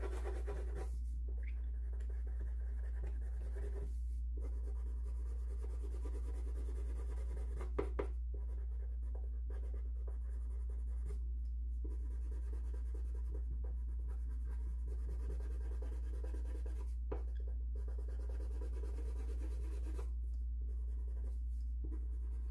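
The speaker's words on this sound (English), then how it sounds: "There's no specific angles of the pencil strokes." Pencil shading on paper: steady, close, soft scratching strokes that run in long bursts broken by short pauses, with no talking.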